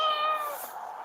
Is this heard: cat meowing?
yes